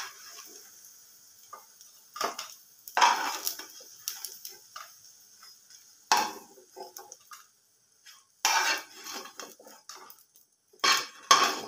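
Crisp fried lentil fritters are lifted from the pan onto a plate, making scattered light clinks and taps of utensil on plate and pan, with quiet gaps between them and no talking.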